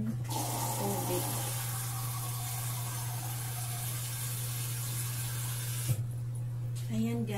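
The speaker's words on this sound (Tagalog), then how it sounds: "Ngayon, lagyan ko siya ng tubig." Tap water runs steadily into a pot holding marinated chicken in a home kitchen, a continuous close rushing stream over a low hum that cuts off abruptly near the end.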